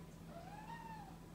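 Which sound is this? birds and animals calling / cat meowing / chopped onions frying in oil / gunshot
cat meowing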